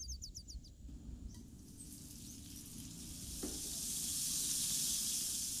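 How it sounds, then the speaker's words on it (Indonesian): Margarine heating in a marble-coated frying pan gives a steady, fairly quiet sizzle and hiss that swells toward the end, with no talking over it. "Masukkan secukupnya margarin atau minyak goreng untuk menumis."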